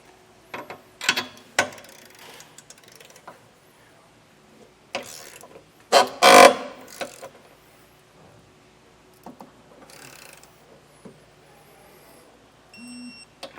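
Ratchet clicking in short bursts while tightening a bolt into a weld nut on a Curt Class III trailer hitch being installed under a 2018 Dodge, with a louder flurry of clicks midway and quiet pauses between.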